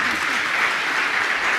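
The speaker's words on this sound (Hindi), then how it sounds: "आपकी तालियां बहुत धीरे बजती हैं।" Steady applause from a seated audience at a religious discourse gathering fills the space, a dense even wash of clapping that holds throughout without pause.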